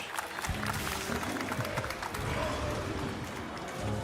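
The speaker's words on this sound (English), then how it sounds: "That applause was for the fish, not for the monster" A crowd applauds a fish just landed in Monster Hunter Wilds, steady clapping that sits under continuous voices talking over it from start to end.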